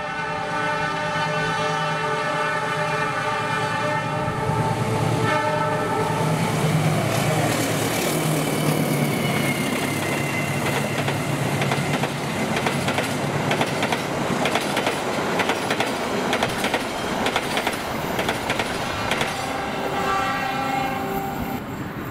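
Indonesian Argo Parahyangan passenger train passing steadily for the whole span, with a loud horn sounding near the start, rumbling wheels and clattering rail noise throughout.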